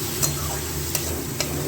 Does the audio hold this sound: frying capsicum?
yes